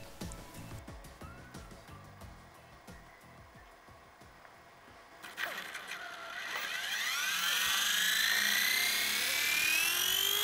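A WLtoys V977 brushless flybarless RC helicopter spins up and flies, its whine rising in pitch and growing steadily louder, preceded by a few mechanical clicks.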